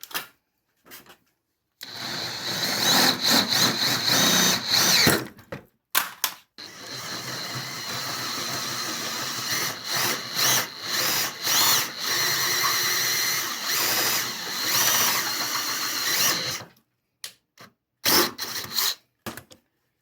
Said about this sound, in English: we got the hole drilled out to 23/64